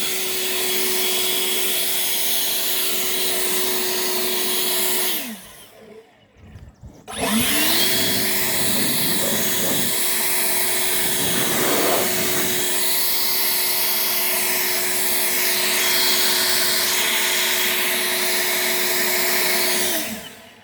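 An EGO 765 CFM battery leaf blower runs loud and close on turbo with a steady whine, cuts out briefly, then spins back up and holds a sustained roar to the end.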